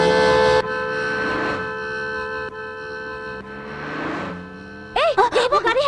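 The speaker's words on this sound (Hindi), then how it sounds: "गाड़ी आ रही है, हॉर्न बजाओ।" A steady sustained horn blares for several seconds, followed by a burst of short wavering toots near the end.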